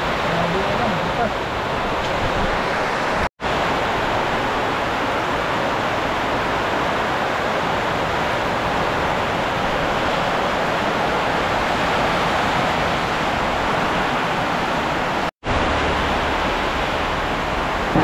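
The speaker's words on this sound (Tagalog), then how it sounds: "Grabe ulan, bukas." Heavy rain pouring outdoors on a farm in the rainy season, a dense unbroken hiss that stays loud and even throughout with no voices over it.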